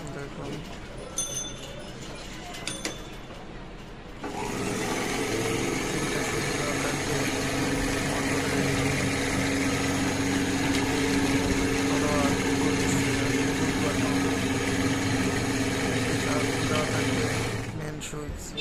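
Quiet room tone and a few small clicks give way to a ceiling fan coil winding machine starting up, which runs with a steady, close whirring drone before it shuts off near the end.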